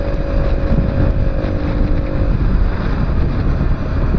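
Motorcycle ridden to work rumbles continuously up close, its low engine drone mixed with heavy wind buffeting the microphone and no voices.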